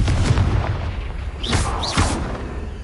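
Confringo blasting spells go off in Hogwarts Legacy, a fantasy video game: a dense run of booming, crackling impacts with two sharp whooshing bursts near the middle, loud and continuous, with no talking.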